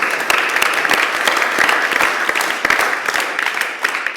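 Audience applause fills the hall at a continuing-education diploma ceremony as a graduate joins the ranks, steady sustained clapping from a crowd with no voices.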